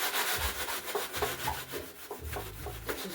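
A foam sanding pad with finer grit is rubbed by hand over wood in short back-and-forth strokes, a soft rhythmic scratchy rasp heard up close.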